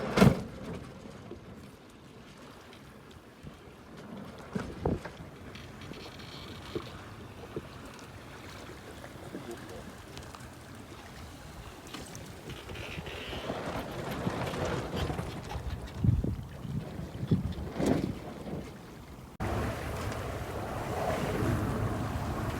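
A boat travels out on a river, with steady wind buffeting the microphone and water washing and churning around the hull throughout, a continuous rough roar that swells and shifts, and no talking.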